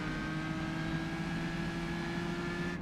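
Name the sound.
race car engine downshifting at Isle of Man time trial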